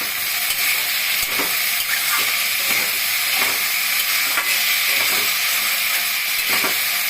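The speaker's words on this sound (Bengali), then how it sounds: "এখন সুন্দর করে আলুটাকে ভাজবো, কিন্তু আর ঢাকা দেবো না।" Potatoes frying in an open pan for Bengali alu posto give a steady, dense hiss, close and continuous, with faint scrapes of stirring now and then and no voices.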